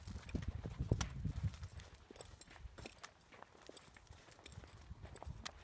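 A horse walks during a groundwork lesson, its hooves clip-clopping in an irregular series of soft, close steps on firm ground, with quiet stretches between clusters of footfalls.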